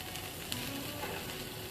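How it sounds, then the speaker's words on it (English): Morel mushrooms sautéing in a pan with oil, giving a steady, close hiss and sizzle with faint crackle throughout, no talk. "I'm going to add the mushrooms now"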